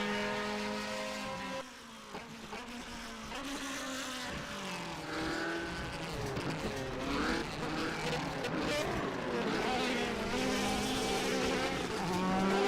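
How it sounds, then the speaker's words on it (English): A DTM race car in a racing video game does a burnout at Hockenheim, its engine droning and wailing at high revs, with shifting pitch and a steady loud presence throughout. "He does his burnout there."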